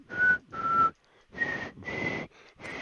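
Someone whistles a short tune of five clear sustained notes with brief gaps between them, near and moderately loud with no other sound.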